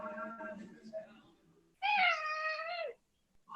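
A house cat meows close by, a clear drawn-out mew following some softer earlier vocal sounds, with a brief quiet gap before another short sound at the end.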